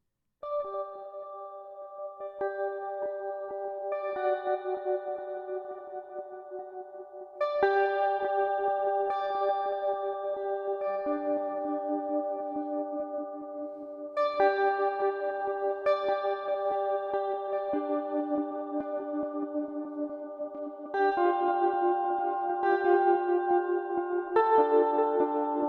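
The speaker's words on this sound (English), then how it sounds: "I'm gonna get rid of the distortion, and I'm gonna go into like a cleaner sound." Clean electric guitar played through Guitar Rig 5 software effects with distortion switched off, ringing chords and arpeggiated notes with echo and reverb tails, steady and moderately loud throughout with no talking.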